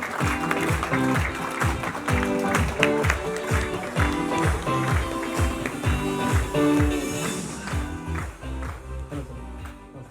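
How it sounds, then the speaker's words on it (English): An audience claps in a dense, steady round of applause at a live MTV event, close and sustained, fading slightly toward the end. "Huge round of applause"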